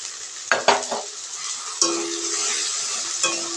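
Spices with salt frying and being stirred in a pan for a mustard-based Bengali dish, a loud continuous hiss of oil with a few scraping stirs near the start and later, alone without talk.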